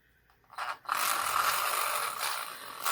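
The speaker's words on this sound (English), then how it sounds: "I will mix that up a little with my mini mixer" A small handheld mini mixer whirs steadily as it blends raspberry mica into sweet almond oil for soap, starting after a couple of brief clicks and running continuously, close and fairly loud.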